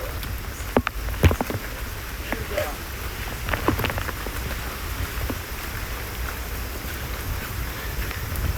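Heavy rain pours down steadily during a violent rainstorm, a dense continuous wash with wind buffeting the microphone and a few sharper knocks near the start.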